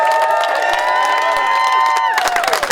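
Crowd at a San Francisco rally of Amazon warehouse workers seeking a union contract cheers and whoops with sustained voices over steady clapping, loud and continuous before thinning toward the end.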